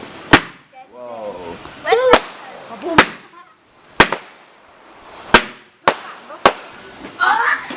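Spinning firework fixed to a fence going off outdoors, a series of sharp loud cracks and pops at irregular intervals, with whistling fizzes between them and people reacting in the background.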